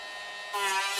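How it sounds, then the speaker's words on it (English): Electric sander working along the edge of a leather purse: a steady high buzzing hum that jumps louder and brighter halfway through as the tool bites the edge, close and continuous with no talk. "keep the sander moving."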